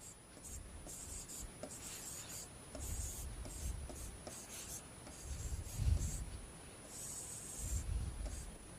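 Chalk or marker scratching and rubbing across a board as a Sanskrit verse is copied out, a steady, faint run of short strokes with occasional heavier taps, no voice over it.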